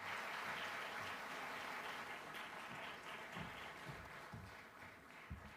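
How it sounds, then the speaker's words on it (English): Faint audience applause at the Africa Forward Summit, a soft, distant spread of clapping from a large hall that slowly thins out toward the end. "A warm, big round of applause for His Excellency"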